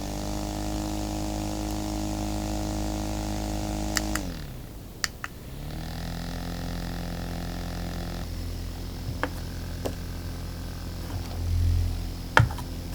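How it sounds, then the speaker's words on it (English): A cheap no-name handheld fan runs with a steady motor hum and buzzing vibration, broken by a brief dip and a few sharp rattles and clicks as it is handled. "The no-name fan has severe vibration noises on pretty much any surface, and rattling even handheld."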